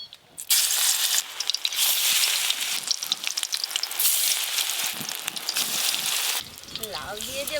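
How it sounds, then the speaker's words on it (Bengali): Bottle gourd fritters frying in hot oil give a loud, dense sizzle and crackle that rises abruptly and holds steady, then drops away near the end as a voice briefly enters. "তেল গরম হয়ে গেছে, এবার লাউয়ের বড়াগুলো ভেজে নেব"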